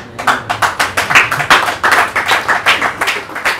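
A small audience claps in a rhythmic, even beat, each clap distinct and close, with no one talking over it.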